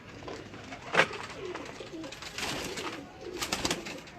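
Breeder pigeons cooing close by in a loft, with repeated low, rolling coo phrases and a sharp flutter or scuffle near the start, set against a steady background hiss with no clear talk.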